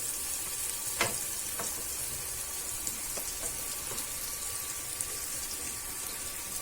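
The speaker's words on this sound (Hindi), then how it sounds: "अब इसमें हम फ्राई किए हुए प्याज और भिंडी को ऐड करेंगे।" Onions and okra mixed into spiced oil in a pan, giving a steady low sizzle and frying hiss with a few soft stirring clicks, close and alone without talk.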